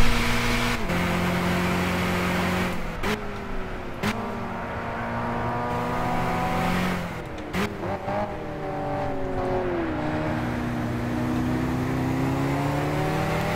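Racing engine from the Gran Turismo 6 driving game on a final lap behind a Caterham, a loud whining drone that rises steadily through the gears with sharp drops at each shift, alone and close.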